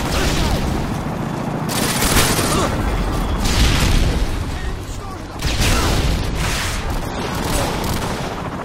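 Predator missile explosion in Call of Duty: Modern Warfare 2, heard as repeated booming blasts and gunfire bursts running continuously under game voice chatter.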